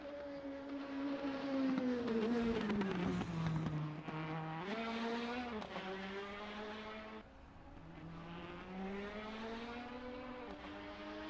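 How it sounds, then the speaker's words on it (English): Race cars at Imola roar past in a continuous loud stream, engines rising and falling in pitch as they accelerate, shift and brake, with no voices. "Automobile race currently occurring."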